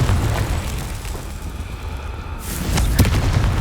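A Confringo fire spell blast in the game Hogwarts Legacy lands as a low, rumbling boom, followed by a sharper crackling burst near the end amid steady background noise.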